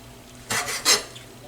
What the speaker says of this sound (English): I'll just give this a rough chop